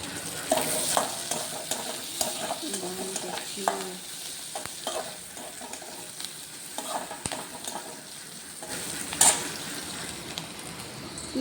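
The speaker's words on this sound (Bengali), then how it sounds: "পেঁয়াজ ভাজা হচ্ছে বন্ধুরা।" Onions frying in a pan for a fish curry, a steady sizzle running throughout while a utensil stirs and scrapes against the pan in irregular strokes, with occasional metallic clinks; no one talks.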